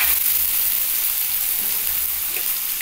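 Spices sizzle steadily in hot oil in a pan for a Bengali fish and egg curry, a continuous bright crackling hiss with no voices.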